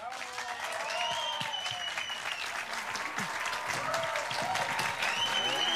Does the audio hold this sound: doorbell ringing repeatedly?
no